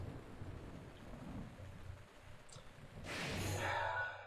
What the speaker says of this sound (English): The fucking rain